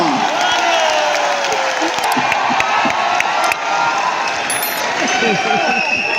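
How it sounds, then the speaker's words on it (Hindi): A large crowd at an RCM event cheers and claps continuously, with scattered shouts and whoops rising over the steady roar of applause. "तालियां।"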